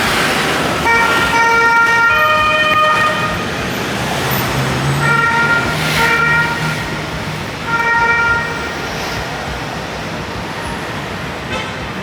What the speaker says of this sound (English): The police cars sing here.